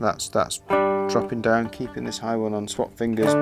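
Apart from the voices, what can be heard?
No everyday noise stands out behind the speech.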